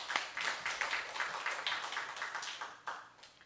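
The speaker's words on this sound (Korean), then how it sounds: "하나님께 영광의 박수 돌리겠습니다." A church congregation claps together at a Korean revival service, brisk, fairly faint applause of many hands in a steady rhythm with no voices.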